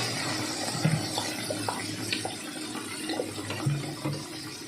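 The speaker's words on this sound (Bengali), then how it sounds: "এবারে জল দিয়ে দেবো।" Water pours from a bowl into a pan of cooked egg curry masala, a steady close splashing and trickle with a few small clinks, heard alone without talk.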